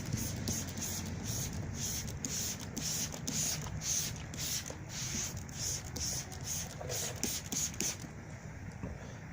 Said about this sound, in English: What I'm going to do is hit it with a spray bottle now to wash it out.